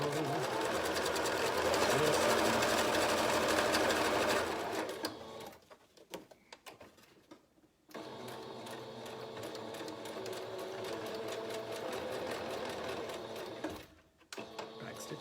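A sewing machine back stitching a cloth face mask, its fast needle chatter running steadily up close, stopping for a few seconds, then resuming, with a brief pause near the end.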